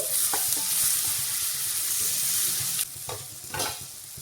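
Onion, garlic, chili and turmeric sautéing in a pan for dal khichdi, with a steady close sizzle and a few scraping stir strokes near the end.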